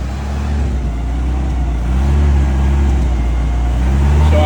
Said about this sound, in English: Go ahead and give it some RPMs. It's kind of whoop. It's a high idle.